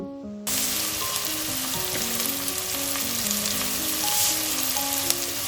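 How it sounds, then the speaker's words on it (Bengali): Chopped onions with a little salt dropped into hot oil and spices for a chicken pulao, bursting into a loud sudden sizzle that holds steady while being stirred, with a tonal hum running underneath. "এখানে আমি কুচিয়ে রাখা পেঁয়াজগুলো দিয়ে একটু নাড়িয়ে দিচ্ছি"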